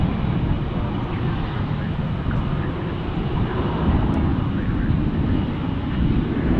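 Steady, broad roar of a Retrojet airliner at Dallas Fort Worth International Airport, a continuous low rumble with hiss that holds at an even level from start to finish without any clear rise or fade.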